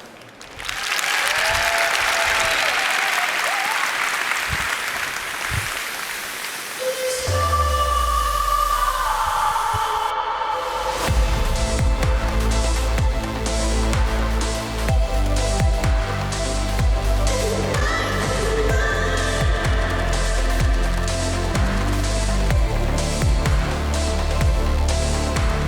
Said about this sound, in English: Give the biggest round of applause you can do so far.